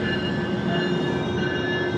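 A steady rumbling Miami Metrorail train with a sustained whine and hum, close by and continuous, with no talking.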